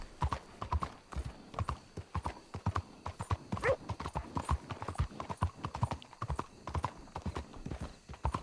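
Horse hooves clip-clop steadily in a fast riding rhythm in Red Dead Redemption 2, with an occasional whinny, loud and close throughout.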